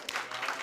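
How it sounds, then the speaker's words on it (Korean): Children applaud at a Sunday worship service for the elementary department, a short burst of broadband hand clapping lasting under a second, fairly quiet and steady with no voices over it. "박수 한번 쳐줄까요?"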